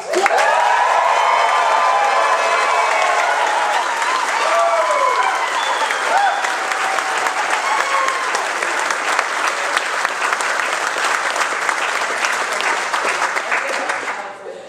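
A crowd at a youth sailing championship awards ceremony bursts into loud, sustained clapping with cheers and high shouts of children over it, staying dense and close for about fifteen seconds before tapering at the end.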